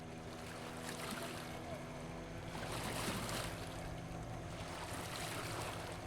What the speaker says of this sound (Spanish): abordamos una lancha rápida que va bordeando hacia el sur la costa del Mar Pacífico